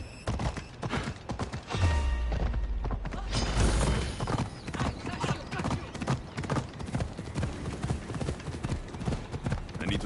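Horse hooves clip-clop in a quick steady rhythm over a busy soundtrack in Assassin's Creed Odyssey, with a low rumble partway through and a horse snorting.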